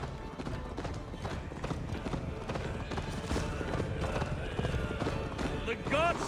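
Rapid rhythmic hoofbeats of a galloping horse in the video game Assassin's Creed Valhalla, close and steady, with voices talking over them and a brief whinny near the end.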